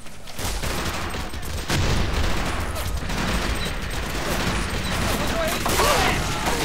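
Sustained battlefield gunfire in Men of War: Assault Squad, a dense fusillade of rifle and machine-gun bursts with booming impacts, loud and continuous, with occasional voices underneath.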